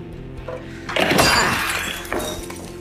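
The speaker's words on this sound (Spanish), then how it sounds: "Después colocas la corcholata o tapa en la botella y la sellas." A capper crimps a crown cap onto a filled glass beer bottle, giving one close, crunchy metallic squeeze with a glassy clink that fades over about a second.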